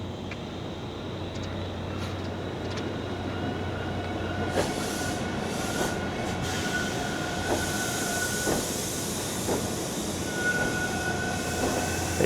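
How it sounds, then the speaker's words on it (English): A Toronto subway train rumbles steadily nearby, with a high whine and faint wheel squeals riding over the continuous low roar. "it sounds like there might be a train here."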